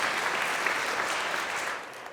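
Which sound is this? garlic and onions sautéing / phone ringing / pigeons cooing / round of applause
round of applause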